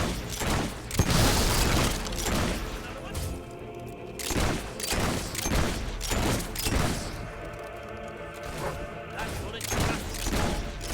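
Video game gunfire, with repeated loud bursts of shots and booming impacts coming in clustered volleys over a steady mechanical background, while a voice speaks at moments.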